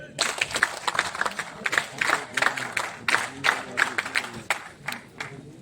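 Naval NCC cadets at a training camp in Vizag give a group clap, a loud, fast, rhythmic burst of many hands striking together in a near-unison pattern, close and sustained.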